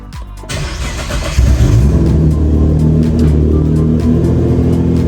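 A modified Nissan GT-R engine cranks and catches, then settles into a loud, steady idle rumble close by.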